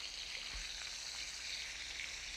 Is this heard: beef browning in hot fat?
yes